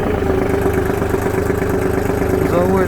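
A Kubota GT21 wheeled-tracked 21 hp mini tractor engine runs at a steady, close idle, its even mechanical hum unbroken throughout.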